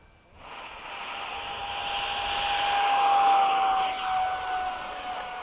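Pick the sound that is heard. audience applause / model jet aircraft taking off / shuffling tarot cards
model jet aircraft taking off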